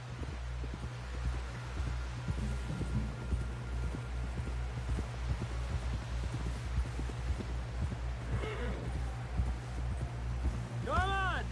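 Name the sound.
horse hooves clip-clopping, from video game Red Dead Redemption II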